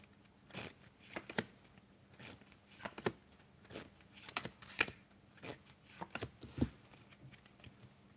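Playing cards are shuffled and flicked in a quiet room, with soft irregular riffles and snaps scattered over several seconds.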